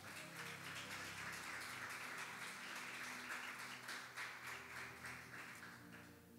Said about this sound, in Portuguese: aplaude ao Senhor em nome de Jesus